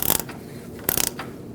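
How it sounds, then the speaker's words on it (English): A ratchet with an extension threads an oil pressure switch into a 2004-2012 Chevrolet Colorado 3.7L engine, giving two short bursts of close mechanical clicking separated by a pause. "You can continue to turn it in, but you may need the ratchet and extension."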